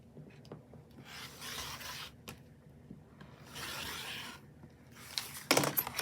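A rotary cutter rolls along a ruler trimming the edges of a quilt block, giving a few soft, close, rasping strokes separated by pauses, then a short rattly clatter at the end.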